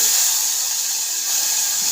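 Dal frying in a spiced tempering sizzles with a steady, bright hiss that stays constant and close throughout, with no talking.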